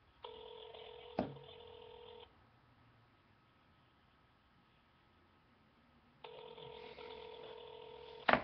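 A phone call rings out on speakerphone: two ringback tones about two seconds long, separated by a quiet gap, with a faint click. The sound is soft and slightly tinny, with no voices.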